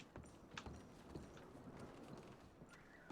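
Horse hooves clip-clop in Red Dead Redemption 2, a quiet run of irregular thuds and taps over a low background bed, with no talk during it.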